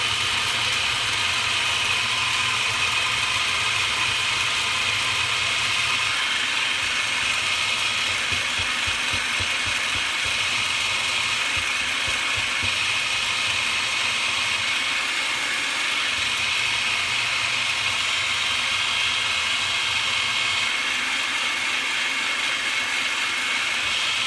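Food processor blending a raw vegan burger mixture with fresh parsley and cilantro: a loud, continuous mechanical whirring and grinding with a rhythmic chugging as the mixture churns, steady throughout.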